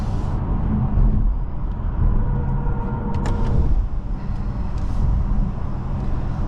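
Interior drone of a 2024 BMW i5 M60 electric sedan cruising on the road, with a steady low road and tyre roar, light wind noise and a couple of brief clicks, no voices.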